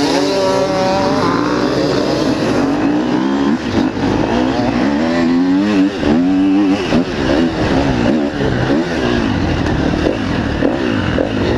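An enduro motorcycle engine at a three-hour enduro race, loud and close, revving continuously with rising and falling pitch as the throttle opens and closes, with other bikes blending into the roar.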